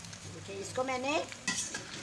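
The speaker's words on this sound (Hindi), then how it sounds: "इसको मैंने भुनाई की है ऑयल के साथ।" Mutton browns in oil in a karahi with a faint, soft sizzle, broken by a brief rising whine and a few light stirring scrapes.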